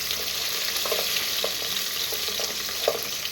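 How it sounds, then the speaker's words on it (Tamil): Chopped onions fry in a pan at home, a steady sizzling hiss broken by a few soft scraping stirs, close and moderately loud with no talk. "இப்போ வெங்காயத்தை பொறுமையாக தள்ளுவோம் மெதுவாக மெதுவாக"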